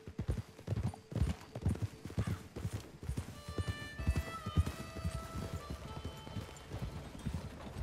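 Horse hooves gallop in a steady, rapid clip-clop from a Red Dead Redemption 2 ride, with a whinny cutting in partway through over the running beat; no talking.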